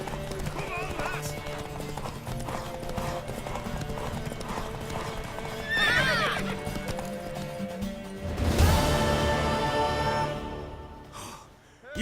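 Horse hooves clip-clop steadily in The Witcher 3 video game, with neighs and snorting breaths rising over the hoofbeats toward the end, while a voice speaks in the background.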